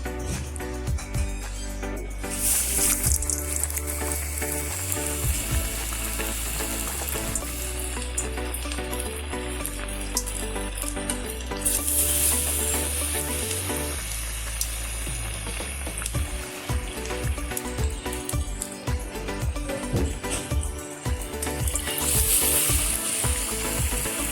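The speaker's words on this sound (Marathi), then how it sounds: "आता आपण बेसनामध्ये डीप करून त्यांना तळून घेऊया" Besan-battered vada pav fritters frying in hot oil, a loud, continuous sizzle and crackle throughout with occasional bubbling bursts, close, with faint music or background noise underneath.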